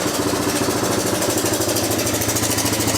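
A 1987 Honda TRX250 ATV engine runs close by with a steady, rough, pulsing mechanical drone, an old quad whose idle is slow to settle back down; nobody speaks.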